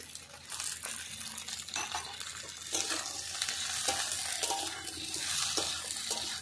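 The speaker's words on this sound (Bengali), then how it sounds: "ভেন্ডিটা ভালো করে আমি পেঁয়াজ দিয়ে একসঙ্গে ভেজে নেব" Okra frying with onion and a little salt in a pan, a close sizzle broken by repeated scraping and stirring strokes of a utensil against the metal, with no voices.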